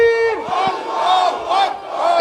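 At a Jamaat-e-Islami protest near Teen Talwar in Karachi, a large crowd chants slogans in loud, rhythmic unison, with a leading voice calling out and many voices answering in repeated surges.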